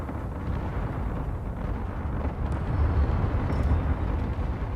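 Anti-aircraft fire shredding in-atmosphere corvettes in the Clash of Empire video game, a dense continuous rumble of bursts and explosions filling the scene, loud and unbroken with no talk.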